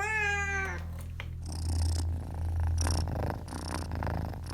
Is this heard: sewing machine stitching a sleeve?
no